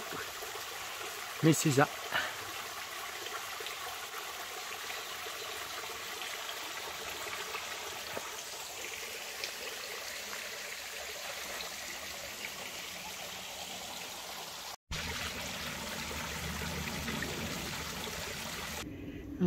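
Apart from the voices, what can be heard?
small waterfall with little water in Slovenian countryside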